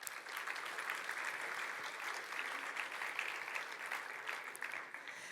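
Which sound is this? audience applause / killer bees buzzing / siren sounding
audience applause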